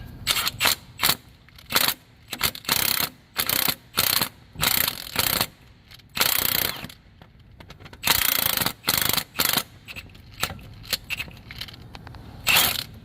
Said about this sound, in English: to take the balancer off, I just use a Chrysler balancer remover tool right here like this.